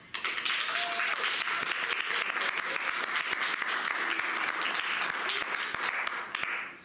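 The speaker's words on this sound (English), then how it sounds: "clap now." An audience at a live theater serial show claps loudly to vote for a character, a dense burst of hand clapping that holds steady for several seconds before briefly dipping near the end.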